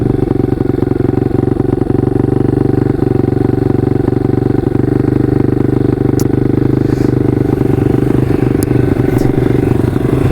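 A KTM 150 RXF dirt bike rides along a trail, its engine droning steadily and loud throughout with a low throbbing rumble, a few faint rattles and clatters over the top.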